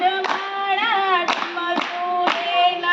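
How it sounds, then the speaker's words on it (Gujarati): Steady claps mark the rhythm of a Shiva devotional bhajan performed by a Surat bhajan group, about one sharp clap every half second over held sung notes. "તાલમાં ભોળા શંભુને યાદ કરીને તાળી પાડો"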